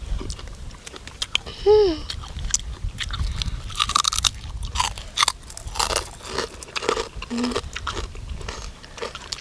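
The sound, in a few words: eating crunchy raw blue crab papaya salad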